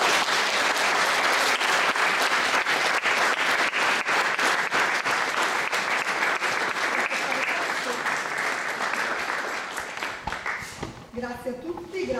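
A concert audience welcomes a performer with loud, full applause from a packed room that stays strong for about ten seconds, then thins out and fades as a voice begins speaking.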